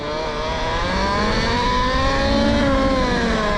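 Talaria Komodo electric motorbike in eco mode, its motor whine climbing gently in pitch as it revs, loud and close, steady with no voices.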